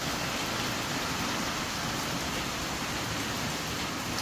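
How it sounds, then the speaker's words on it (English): Rain drums on a tin roof in a dense, unbroken hiss of patter, steady and loud throughout with no voices. "Nothing like rain on a tin roof."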